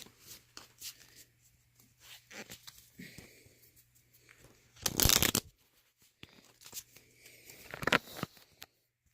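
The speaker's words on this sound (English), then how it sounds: "So you have to shuffle the trail cards." Oregon Trail trail cards being shuffled by hand at close range, a run of soft flicks and papery riffles with one loud burst in the middle and another near the end.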